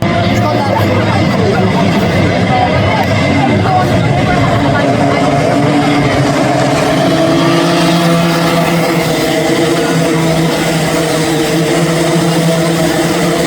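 Club100 racing karts at a North round run along a hilly track, a steady loud engine drone filling the whole stretch with a broad mechanical rumble and crowd-like background noise, no clear passes standing out.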